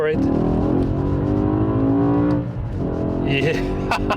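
A BMW E60 M5 with a new intake pulls hard at full throttle, a loud, steady, rising engine tone heard from inside, easing off after about two seconds as someone talks.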